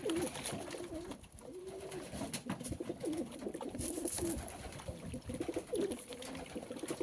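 Pigeons gather at a shallow bathing tub set out in the sun, their soft repeated cooing running steadily throughout, with faint splashing and fluttering mixed beneath the calls.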